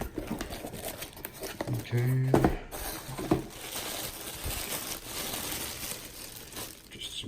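Plastic bags crinkle and rustle while a fishing reel is unboxed, with close handling noises in uneven bursts and a person speaking briefly.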